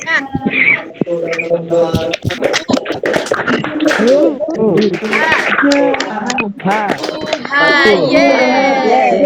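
A classroom of children does a rhythmic clap-and-chant cheer led by a teacher, sharp hand claps in patterned bursts mixed with loud children's voices chanting and shouting throughout.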